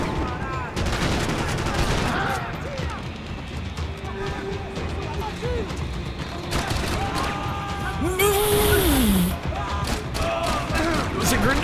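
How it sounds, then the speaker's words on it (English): Bursts of video game gunfire crackle and rattle continuously under excited talk, with game sound effects, a whistling tone and a rising-falling electronic sweep mixed in. "You're getting shot at."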